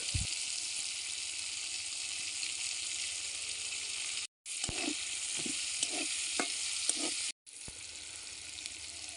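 Fish fat melts in a hot pan and is stirred slowly, a loud steady sizzle with soft scraping strokes of the spoon, briefly cut off twice.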